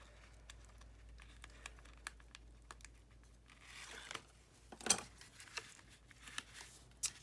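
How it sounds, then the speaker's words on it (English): Tape peeled off a paper card for a faux shadow box, a few quick crackling tears and crinkles near the middle against a faint, quiet room background, with light tapping and handling noises scattered around them. "I'll press it down and I'll peel it off."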